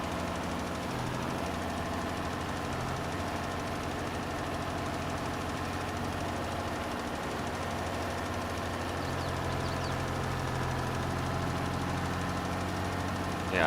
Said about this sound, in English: Oh, this is a medium-sized tractor.